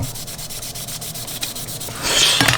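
Steady scratchy rubbing of fine film sandpaper on a surface, a repeated back-and-forth rasp that grows louder and harsher near the end.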